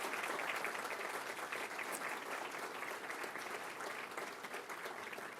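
An audience at a BC provincial economic update applauding local government office holders, steady continuous clapping from many hands, moderately distant and sustained throughout.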